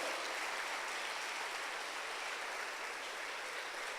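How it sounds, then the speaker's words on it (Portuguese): A church congregation applauds together in a steady, broad wash of clapping that holds at an even, moderately distant level for the whole stretch, with no voices over it. "Então dê um forte aplauso ao Senhor."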